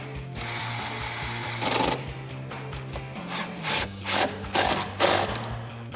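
Bolts for steel front grab handles being tightened into the A-pillar of a Jeep Wrangler JK, heard as steady ratcheting and scraping with repeated louder bursts of metallic clicking, close and without talk.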